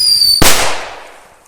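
An I Love Skull CLE0205I whistling firecracker gives a shrill, steady whistle, then a single sharp bang that rings out and fades over about a second.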